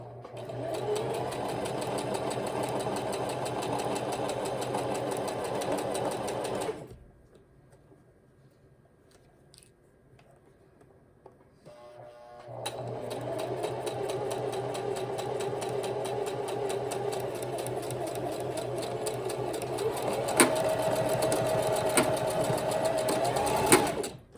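Sewing machine stitching stretchy bikini fabric runs in a long steady whirring drone, stops for about six seconds of near silence, then resumes just as loud and continuous until the end.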